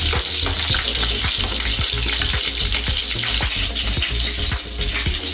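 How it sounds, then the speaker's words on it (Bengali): Prawns frying lightly in oil for a Bengali-style chili prawn dish, a loud, close, continuous sizzle punctuated by regular stirring and scraping strokes, with no voices. "খুব বেশি ভাজা হবে না, হালকা ভাজবো।"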